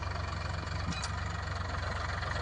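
A tractor engine drones steadily while it levels a farm field, with a deep, even low-pitched rumble close by and a brief rattle partway through.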